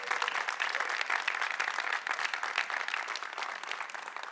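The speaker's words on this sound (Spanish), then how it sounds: "Un aplauso a Jesús." A church congregation applauds steadily after a call to praise Jesus, a dense, even wash of clapping held at moderate distance without pause for several seconds.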